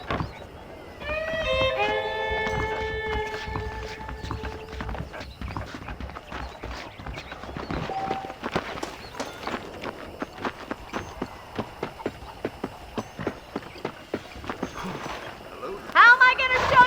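Steady clip-clop of saddled horse hooves trotting in Red Dead Redemption, with a brief whinny early on and game-style ambient sounds underneath.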